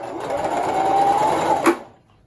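A sewing machine runs steadily at speed for about a second and a half with a close, even mechanical whir, then stops with a short clack and falls silent.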